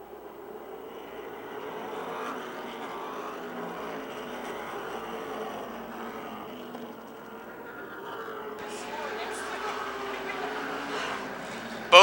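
Race cars lapping an oval at Motordrome Speedway during a 2005 touring-series feature roar steadily at mid distance, the engine drone swelling and easing, then brightening near the end as cars pass closer.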